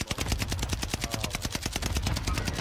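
Rapid automatic gunfire in Halo 4 multiplayer, a fast, evenly spaced burst of sharp shots running unbroken and close, with no talk.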